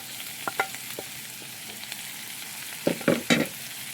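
Zucchini and mixed vegetables sizzle quietly in a pan during a stir fry, with soft scattered stirring clicks and a cluster of louder scrapes near the end, no talk.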